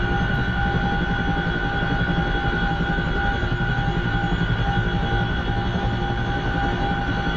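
A simulated helicopter in DCS World hovers with its cockpit view up and rear ramp open, a steady dense rotor and turbine drone holding at constant loudness throughout with no voices.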